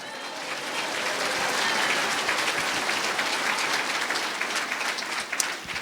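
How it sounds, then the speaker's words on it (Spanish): A church congregation applauds in a steady, dense wash of clapping that swells and holds for several seconds, loud and close, with no talk over it. "Fuerte aplausos al Señor."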